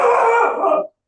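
Dog giving one drawn-out, howling bark-whine that holds steady for nearly a second, then cuts off abruptly into silence.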